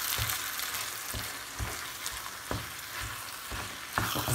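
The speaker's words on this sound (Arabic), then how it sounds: "نخلط مع هاد الشعيرية الصينية، نخلط معاها ونبقاو نحركوها حتى تنشف لنا الماء" Chinese vermicelli sizzles in a pan while being stirred until the water dries off, a steady frying hiss broken by regular scraping taps of the utensil.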